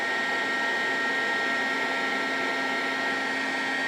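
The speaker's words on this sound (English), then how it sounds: "I'm going to try with a heat gun to apply heat on the rear of the panel" A heat gun blows hot air onto a Citroën BX car panel in a garage, giving a steady, close, even rushing whoosh with a faint fan hum that runs unbroken the whole time.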